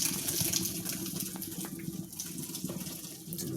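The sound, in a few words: draining boiled macaroni noodles in the sink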